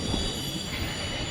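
Rani Channamma Express rolling through Kuduchi railway station, a steady loud rumble of rail cars with wheels squealing against the track, continuous and close with no voices.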